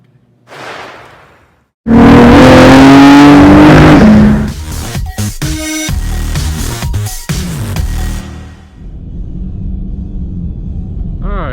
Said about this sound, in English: let's open this garage and get this thing started.